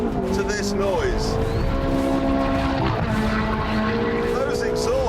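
A Ferrari 430's V8 engine roars and burbles steadily, its exhaust note rising and falling as it revs, loud and close throughout.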